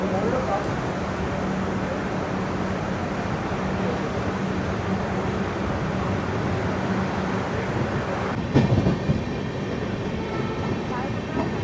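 The MGR Chennai–Mumbai LTT SF Express, train 12164, pulls out of Kadapa station with a steady, dense rumble throughout and a brief sharper clatter near the end.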